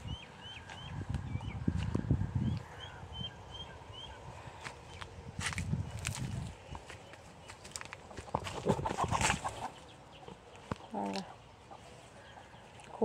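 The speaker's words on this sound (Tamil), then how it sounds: "கோழி இருக்கு, கோழியெல்லாம் ஓடுது" Chickens clucking and running around a farm garden with a mango tree: scattered clucks and chirps, scratchy rustling and quick footsteps through vegetation, fairly close, with a few sharp knocks.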